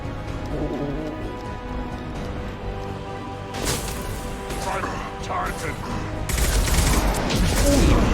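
Rapid bursts of gunfire in the video game Mass Effect 2 crackle beneath a person talking excitedly, the shots growing denser and louder toward the end.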